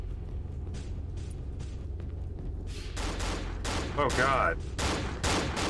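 Gunfire rings out in the horror video game Cry of Fear, a string of sharp bursts and rapid shots that grows denser toward the end, with a player speaking briefly over it.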